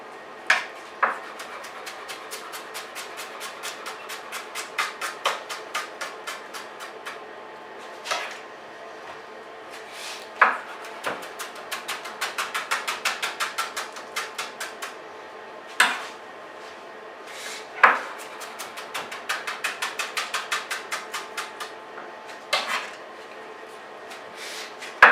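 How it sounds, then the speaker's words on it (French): A knife chops leek and other vegetables on a cutting board in a restaurant kitchen, quick even rhythmic taps with occasional louder knocks, close and clear throughout. "Donc, tous nos légumes sont taillés."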